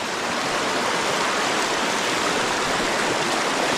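Cold river water rushes steadily nearby, a dense, even hiss of flowing current with no breaks and no voices.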